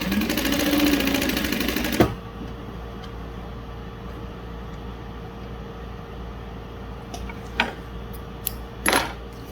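A Juki DU-1181N sewing machine runs a loud, steady burst of stitching on thin material for about two seconds, then stops, leaving a quiet hum with a few faint clicks and taps afterward.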